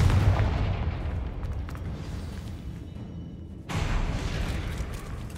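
A Confringo blasting spell in Hogwarts Legacy detonates in a deep, booming blast near the start, its rumble fading before a second loud explosive burst hits midway and rolls on.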